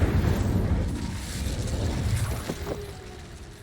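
Incendio fire spell cast in the Hogwarts Legacy video game, a loud whooshing, crackling burst of flame at the start that gradually fades, with no talking.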